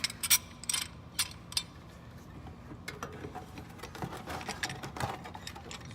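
A large C clamp is worked against the rear brake caliper of a 1997 Ford Explorer, giving close, quiet ratcheting clicks and metallic scrapes in short bursts, then softer scattered mechanical ticks.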